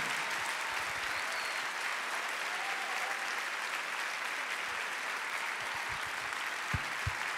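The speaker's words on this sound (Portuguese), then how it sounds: "Vamos aplaudi-los bem forte, gente." A church congregation applauds at length during a worship service, a thick, steady roar of clapping with a few low thumps near the end.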